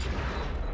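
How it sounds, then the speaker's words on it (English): A deep, muffled explosion rumble from a space battle in the strategy game Stellaris, a brief sustained low boom heard on its own. "I love those explosions."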